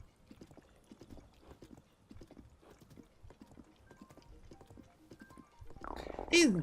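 A horse gallops in The Legend of Zelda: Tears of the Kingdom, with a steady, fairly quiet run of hoofbeats under a speaking voice, then a short neigh at the end.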